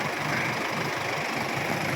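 Isuzu MU-X with a 3.0 litre engine idling, a steady close, loud diesel rumble with an even clattering texture throughout.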